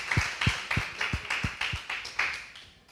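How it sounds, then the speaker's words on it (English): Sparse applause from an event audience at the close of the evening's final session, a handful of distinct claps in a slow, uneven rhythm, fairly near and fading out. "This was the last, big applause."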